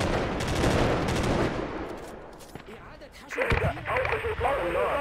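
Rapid gunfire from a squad-based video game firefight rattles loudly for the first two seconds, fades, then bursts back after a pause, with players' voices talking over the shooting.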